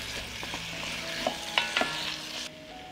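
Potatoes being stirred in a frying pan after paprika, with a steady sizzle under a few scraping clicks of the utensil, close and moderately loud, ending in a sudden drop.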